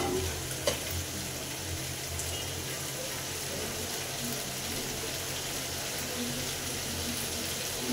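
Chicken frying in a pan as small potatoes go in, a steady dense sizzle and crackle filling the whole stretch, with a brief clatter near the start.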